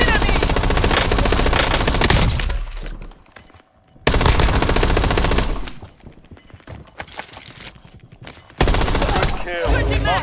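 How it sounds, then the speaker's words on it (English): Machine gun fire in a first-person shooter video game: loud, rapid bursts in three long strings separated by quieter gaps, close and dominant, with game voice lines underneath. "They're shooting at me!"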